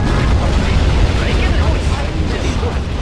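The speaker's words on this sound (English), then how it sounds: "Rocket barrage, anyone?" Rocket barrage in Command & Conquer Generals, a dense rumbling wall of overlapping explosions that stays loud and continuous throughout, with voice lines over the blasts.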